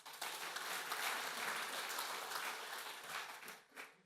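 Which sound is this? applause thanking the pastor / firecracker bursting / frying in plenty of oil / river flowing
applause thanking the pastor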